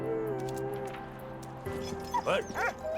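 A dog in Valiant Hearts: The Great War gives a few quick yips and barks near the end, rising above sustained background music.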